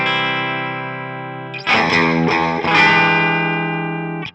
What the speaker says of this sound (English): So the amp clean sound for reference sounds like this.